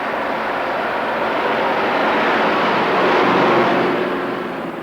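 Helicopters fly overhead in the horror film Nightmare City, a continuous, loud broadband engine roar that swells slightly toward the middle and eases off at the end.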